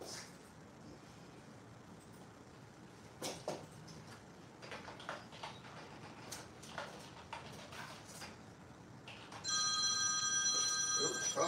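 An office telephone rings in a steady electronic tone near the end, loud and sustained, following scattered tapping and small handling noises in a quiet room.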